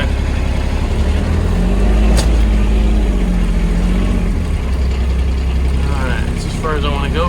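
A car engine revs and strains while reversing to get unstuck on a trail, a steady low rumble with engine surges and high whining tones near the end, and voices talking over it.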